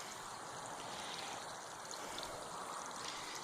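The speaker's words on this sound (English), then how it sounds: "So I'm giving them a good drink of water since we haven't had any kind of rain" Water pouring steadily onto plants in a small garden bed during dry weather, a continuous close hiss and splash without pauses.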